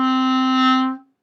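A clarinet sounds one clean, sustained note for about a second before it fades out, played solo with no talk.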